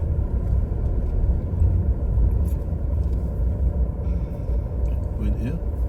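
A car drives along a narrow, busy road, its steady low engine and road rumble continuous and close throughout, with a voice speaking briefly over it.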